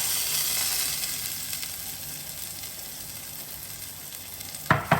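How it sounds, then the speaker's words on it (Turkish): Eggplant schnitzel slices set into hot oil in a frying pan give a steady, loud broadband sizzle throughout, easing slightly, with a couple of sharp clatters near the end as pieces are placed. "Tavam çok güzel ısındı, yağım kızdı. Hazırladığım patlıcanımı şöyle tavama alıyorum."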